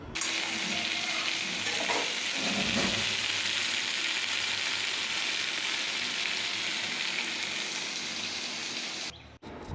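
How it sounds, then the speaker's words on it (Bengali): Potato and pointed gourd sizzle and crackle steadily in hot oil, with occasional stirring scrapes, a loud continuous frying sound that cuts off near the end. "তো এইভাবে আমি আলু ভাজা আলু পটল ভাজাটা করে নিলাম"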